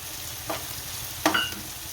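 Cumin seeds hit hot oil and cooked-down tomatoes in a pan with a steady sizzling hiss, punctuated by two short bursts of louder crackle as the seeds go in, with no talk.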